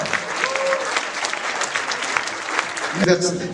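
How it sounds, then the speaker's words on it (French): An audience at a school ceremony for International Human Rights Day applauds the children, a dense, steady burst of clapping mixed with crowd voices, ending with a brief louder sound. "on applaudit mieux que ça."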